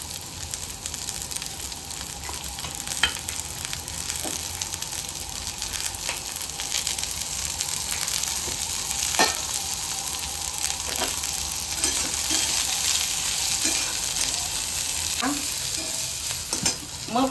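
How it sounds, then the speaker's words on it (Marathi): Onion and masala frying in oil for a crab curry make a loud, continuous sizzle throughout, with repeated stirring scrapes breaking through at irregular intervals, no speech. "आता हा सगळा मसाला मी भाजून देणार आहे."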